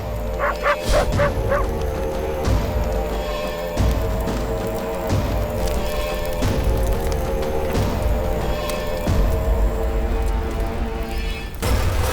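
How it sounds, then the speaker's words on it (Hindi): Several dogs bark repeatedly and loudly in an action scene from a Hindi-dubbed film, yips and whimpers mixed into a continuous chorus that carries over a dense, busy soundtrack. "कुत्ते भौंक रहे हैं"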